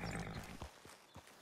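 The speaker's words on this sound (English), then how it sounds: "this Morgan is just a very talkative horse, and she's gonna grumble and complain no matter what we're doing" A horse in Red Dead Redemption 2 gives a low, soft grumbling snort followed by a few faint short breathy puffs, quiet and close.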